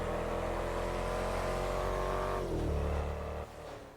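Engine of a Lampadati Novak SUV in GTA 5 revving under power, a loud rising mid-range drone that drops in pitch as it shifts, with no talk.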